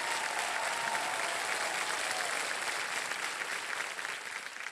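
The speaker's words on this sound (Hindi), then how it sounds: "और सोनल जी को ताली बज जाए एक बार जोरदार।" A studio audience on a televised quiz show claps in sustained, dense applause that stays loud and even before easing slightly at the end.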